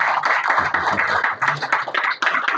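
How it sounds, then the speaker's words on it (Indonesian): A sixth-grade class claps together during a motivational session at a villa in Puncak, Bogor, producing loud, close bursts of group clapping in uneven waves over a few seconds. "Tepuk tangan dan buat Mario"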